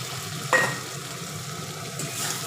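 Small fish tipped into a pan with tomato and green chilli and stirred, a steady close sizzle of frying with a brief knock as they go in.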